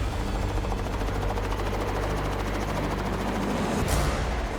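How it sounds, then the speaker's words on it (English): A helicopter's steady rotor chop and engine roar fill the clip, loud and close beside a boat in the wilderness, with a brief swell near the end. "Now, the helicopter needs to come back for the co-pilot."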